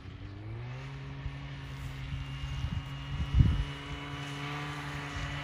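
A snowmobile engine drones steadily while riding across snow on an aurora-viewing trip in the Arctic, a continuous mid-distance hum with slight shifts in pitch and a few faint knocks.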